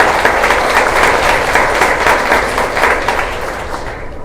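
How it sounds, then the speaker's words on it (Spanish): A short burst of audience applause at a legislative migration forum held by a border and migration affairs commission, brisk and fairly loud, tapering off slightly toward the end. "Un aplauso."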